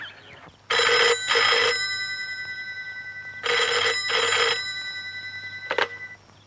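An old telephone bell rings in two loud double-burst rings for a trunk call, followed by a brief clatter as the receiver is picked up, close and clear in a quiet room.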